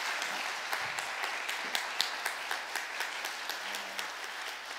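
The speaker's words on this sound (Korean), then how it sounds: "박수로 우리 격려해 주시면 좋겠습니다." Church congregation applauding during a Sunday service flower presentation, a steady wash of clapping with a few sharper individual claps standing out, moderately distant in the room.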